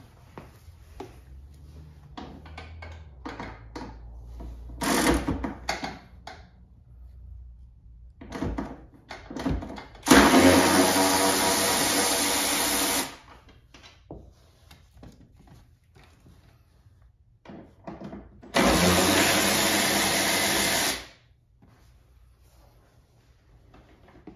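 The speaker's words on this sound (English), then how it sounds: "I also use an extension along my electric ratchet." An electric ratchet with an extension removes the seat bolts of a Porsche 981 GT4 beside a carbon fiber bucket seat. Two close whirring runs of a few seconds each stand out among scattered clunks and handling knocks.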